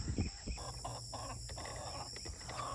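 Chickens cluck and chatter softly in a backyard garden, scattered short calls over a quiet outdoor background.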